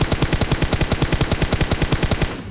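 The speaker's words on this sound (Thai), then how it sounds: "เสียง UMP" UMP submachine gun fire in PUBG Mobile, one long continuous burst of rapid, evenly spaced shots at close range, loud and alone before it cuts off.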